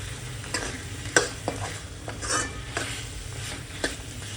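Drumstick pod (shevga) curry stirred in a pan on low heat, with a spoon scraping and clinking against the pan in a few distinct strokes over a soft, steady sizzle, close and fairly quiet.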